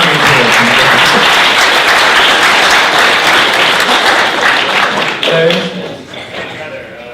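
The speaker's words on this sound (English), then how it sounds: "Give us a round of applause." Loud, sustained applause from a university lecture audience fills the hall and then fades toward the end, while a voice speaks briefly over it.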